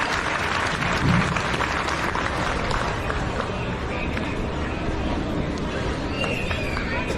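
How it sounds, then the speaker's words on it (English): Crowd applause fills an outdoor show arena at a livestock event, steady and dense throughout, with scattered cheers and a few whistles mixed into the clapping. "please give these out here on the outside of the arena one big huge round of applause"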